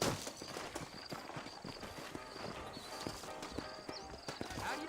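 Horses clip-clop through a town in the Red Dead Redemption video game, steady hoofbeats close by over a busy background of ambient game sound, with a horse whinnying faintly.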